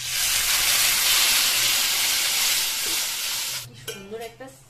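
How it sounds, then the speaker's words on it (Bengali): Masoor lentils hit fried onions in a home kitchen pan, giving a loud steady hissing sizzle for several seconds that suddenly drops away, followed by a brief soft voice. "এবার আমি ডালটা দিয়ে দিচ্ছি এর মধ্যে।"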